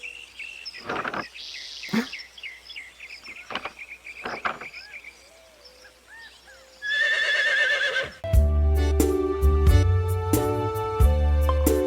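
A horse whinnies several times among chirping birds and insects, then a loud rhythmic musical passage with steady beats takes over in the second half.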